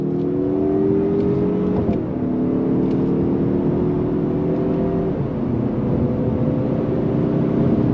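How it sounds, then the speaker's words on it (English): A 2023 Mazda 3 Turbo with all-wheel drive and a 6-speed automatic accelerating on throttle, heard from inside as a steady engine drone that climbs in pitch, dips at each gear change and climbs again, no talking. "We're gonna go on throttle again together here. On throttle with the all-wheel drive."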